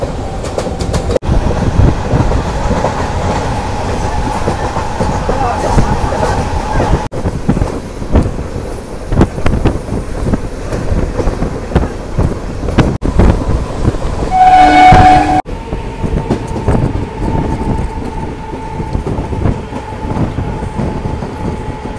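Sealdah to Lalgola local train running along the line, with steady rumbling and rhythmic wheel clatter throughout and a loud, sustained horn blast near the middle.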